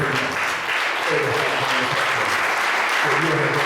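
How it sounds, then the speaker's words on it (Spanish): A church congregation claps for the Lord, a dense, steady roar of applause sustained for several seconds, loud and close throughout. "Démosle palmas hoy al Señor."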